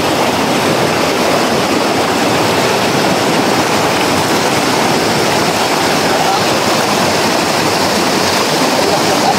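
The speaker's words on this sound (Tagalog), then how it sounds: "ragasan ng tubig guys" Rushing water of Bagong Sikat Falls in the forest of Bulalacao, a dense, loud, constant roar of falling water that fills the scene without letup.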